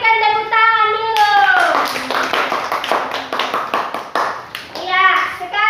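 A classroom of children bursts into applause for a group's presentation, many hands clapping steadily for a few seconds, with young voices talking before and after it.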